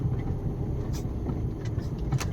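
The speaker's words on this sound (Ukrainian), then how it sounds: "газу дати машина буксує" A car engine revs and drones steadily up close as the wheels spin in snow, tires churning continuously with occasional brief squeaks over the low rumble.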